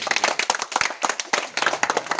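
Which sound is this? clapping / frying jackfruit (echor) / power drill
clapping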